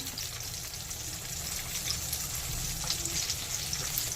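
Bombay duck (bombil) fish coated in green masala shallow-fries in a pan over low heat, giving a steady, close sizzle and crackle that runs continuously without talk.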